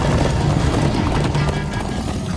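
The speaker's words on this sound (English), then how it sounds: "Come on, horses!" Horses galloping in the Minecraft Story Mode video game, a dense, continuous drum of hoofbeats at steady loudness with game music and effects layered over it.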